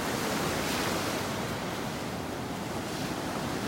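Ocean waves rolling onto a beach on a morning walk in North Naples, Florida, a continuous broad wash of surf with wind rumbling across the microphone, no voices.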